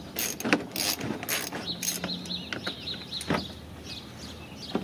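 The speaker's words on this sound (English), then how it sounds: "one more screw there with that same socket" A socket wrench ratchets out a screw from the grille of a Lincoln MKX, with quick clicking bursts, metallic rattles and handling knocks close by, and no voices.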